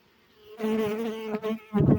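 A close, steady buzzing drone of honeybees at an apiary hive with a few brief swells in loudness, ending in a louder rougher burst.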